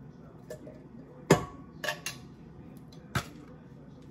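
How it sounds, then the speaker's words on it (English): Drained kidney beans are tipped into a pot for chili, giving a few sharp clattering knocks of metal and can against cookware, one strong hit followed by a couple of softer clunks in a quiet kitchen. "Drained kidney beans in there."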